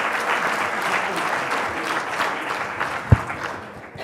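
An audience at a conservation lecture on native plants and oaks claps in a dense, even burst that fades near the end, with one sharp thump just after three seconds.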